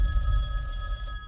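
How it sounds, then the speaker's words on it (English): Telephone ringing with a steady, continuous electronic bell tone, heard alone at moderate volume over low background noise. "that phone over there is gonna ring"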